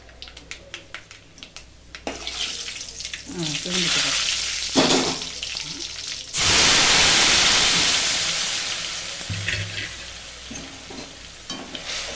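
Chilli and a ground paste sauté in a pan, giving a loud burst of sizzling and frying hiss with stirring clatter around it, and a voice talks over parts of it.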